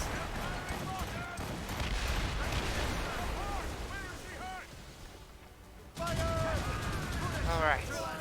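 A Puckle gun firing during a naval battle in Assassin's Creed Rogue, heard as repeated heavy booming shots amid ship combat noise, with a voice talking over parts of it and a louder burst near the end.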